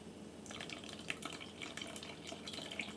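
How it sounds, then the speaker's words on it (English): Canned milk poured from the can into a bowl of eggs for a baked breakfast casserole, heard as a steady close liquid trickle and splash lasting a few seconds, with no talking. "I'm going to pour a little bit of this milk in my eggs."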